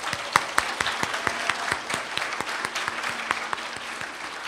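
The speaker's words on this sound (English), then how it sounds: "let's give one more huge round of applause for our graduating seniors and our sponsors" Applause from an audience at a Hampton City Schools Citizen of the Month ceremony, honoring graduating seniors and sponsors: steady, dense clapping with sharp individual claps standing out, sustained throughout at moderate distance.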